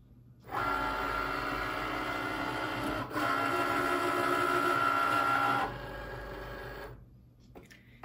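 A Cricut cutting machine whirs and hums steadily while cutting out letters, a loud mechanical drone with a short hitch midway, then dropping to a softer whine before stopping.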